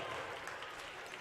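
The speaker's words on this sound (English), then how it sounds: "Gets a nice hand from the crowd." A crowd at a college basketball game between Central Georgia Tech and East Georgia State gives a brief burst of steady, moderately distant applause.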